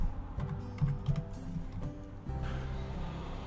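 Keys tapped on a computer keyboard in quick irregular bursts while entering a material name into a software table, fairly close and quiet over a low steady hum.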